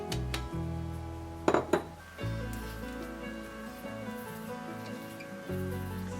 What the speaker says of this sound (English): And you're just going to cut and fold this mix together.